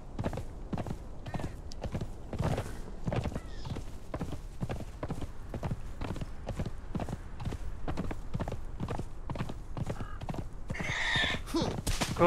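Steady clip-clop of a horse's hooves at an even trotting rhythm, close and continuous, with a short neigh near the end.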